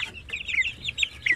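Shamo Aseel chickens cluck close by in a quick series of short, sharp calls over a quiet background.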